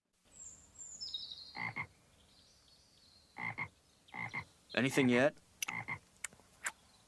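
A toad croaks in several short, rough bursts with gaps between them, close and clear, alongside some brief speech.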